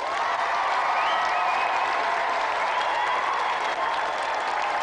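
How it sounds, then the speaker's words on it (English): A studio audience at a games show claps steadily and loudly throughout, a dense, even wash of applause with no talking. "Another round of applause for tonight's competitor, Tim Khan."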